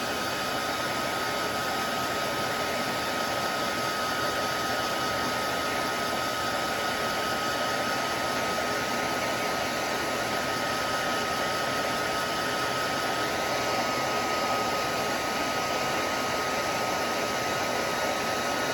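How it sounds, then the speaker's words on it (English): A hair dryer blows steadily on a drying snowflake ornament craft, a loud continuous broadband whoosh with a faint whine that runs unchanged throughout, with no voices. "I'm going to blow dry it to help it dry quicker."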